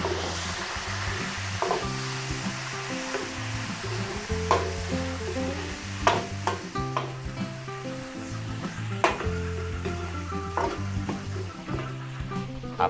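Liver stir-fried with potatoes and carrots in a pan, sizzling steadily and close, with a spatula clanking and scraping against the metal at irregular moments throughout.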